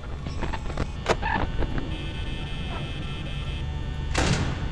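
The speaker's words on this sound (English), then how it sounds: "Closing that door." A door closing in the video game Five Nights at Freddy's, heard as a sharp mechanical slide and clunk, followed by a hum and another burst of mechanical noise near the end, all fairly faint.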